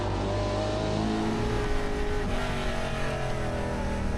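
Stock race cars circle Edmonton International Raceway in Wetaskiwin during the NAPA 300, a steady dense engine roar with no break, loud and continuous, blending several cars at once.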